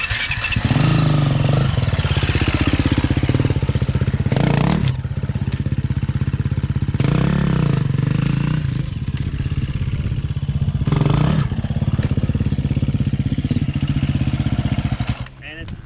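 A dirt motorcycle being ridden over a jump, its engine loud and close for the whole stretch, revving with brief dips near the middle and end as the bike lands with both wheels and its suspension compresses.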